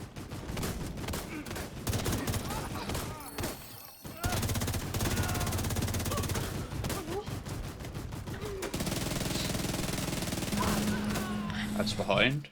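Gunfire in a video game as a canister is shot, quiet rapid bursts running almost continuously with a sharp break partway through, with a voice talking over much of it.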